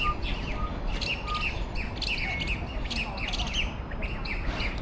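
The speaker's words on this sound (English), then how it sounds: "I think these are magpies? I believe they are magpies." Magpies calling outdoors near traffic: repeated harsh chirps and squawks at moderate distance over a steady low background rumble, with no speech.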